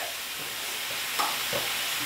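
Tempering sizzles and fries in a pan for a spinach (thotakura) garlic dal with chana and moong dal, a steady soft hiss with a couple of brief stirring clinks, heard up close with no talk.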